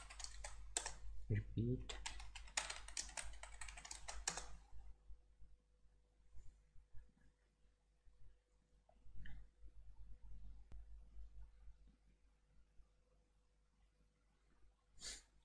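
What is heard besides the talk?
typing on a computer keyboard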